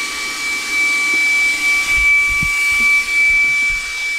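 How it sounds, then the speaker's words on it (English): A small Shark vacuum cleaner runs steadily at close range with a constant whine and broadband roar, plus a few faint knocks and bumps underneath; no one speaks. "We got this little shark vacuum cleaner."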